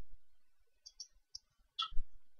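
Soft computer mouse clicks while working in CATIA V5 software, a handful of sharp, isolated taps spread over a quiet room, the last pair slightly louder.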